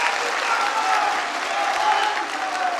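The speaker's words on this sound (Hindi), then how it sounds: "जोरदार तालियों से उनका स्वागत करें" An audience at a political gathering in Satna claps loudly and continuously to welcome a speaker, a dense, close burst of applause with no talk over it.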